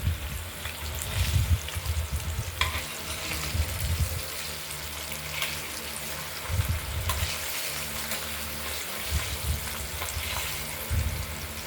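Cumin, ginger and green chillies fry in a pan for a paneer and potato curry, giving a steady close sizzle with stirring scrapes and a few soft knocks of the utensil.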